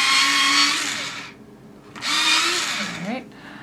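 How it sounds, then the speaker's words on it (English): A colored pencil being sharpened in a sharpener, two whirring grinding bursts of about a second each with a short gap between, close up. "Let me sharpen real quick."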